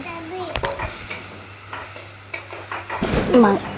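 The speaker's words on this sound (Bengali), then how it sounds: "আমি মশলাটা লাল করে ভেজে নেব।" Spice masala fries with onions in a pan on a stove, giving a soft sizzle with stirring and scraping clinks, growing louder near the end, while a voice speaks faintly in the background.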